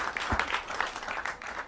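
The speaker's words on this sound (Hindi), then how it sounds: "जोरदार तालियां कर्नल वीपी सिंह जी के लिए" Crowd at a patriotic Hindi poetry recital clapping for poet Colonel VP Singh, a brief, moderately faint patter of applause.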